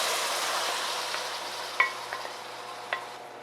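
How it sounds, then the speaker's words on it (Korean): Bracken fern stir-fries with garlic in an open pan, a soft, fading sizzle with a few sharp utensil clicks against the pan near the end. "센 불로 해서 볶아주세요"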